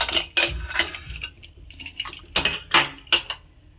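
A pressure cooker holding cooked lentils and bottle gourd is opened, giving a series of close metallic clinks, clanks and scrapes of the lid and utensils, irregular bursts separated by short quiet gaps.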